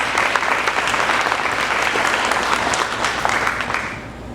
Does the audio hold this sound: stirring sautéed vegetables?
no